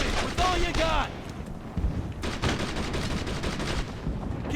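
Heavy gunfire rages in a Brothers in Arms World War II video game battle, dense rapid shots and bursts crackling continuously with voices shouting through the chaos.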